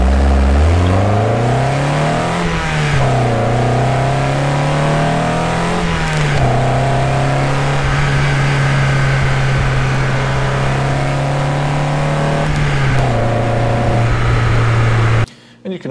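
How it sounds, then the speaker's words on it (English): A car engine recorded for vehicle audio and panned to the left, loud and close, revving up and down with a steady mid-speed drone in between, a brief cutoff at the very end. "why don't we put the engine sound to the left a bit, and that'll give us a little more of a stereo effect."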